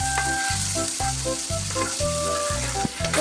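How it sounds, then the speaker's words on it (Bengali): Cauliflower pakoras sizzle steadily in hot oil, a continuous loud frying crackle with faint rhythmic clatter over it, no voices. "ফুলকপির পকোড়া ভাজা হচ্ছে কেন? এক পিঠ হয়ে গেছে"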